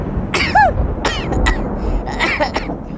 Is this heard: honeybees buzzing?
no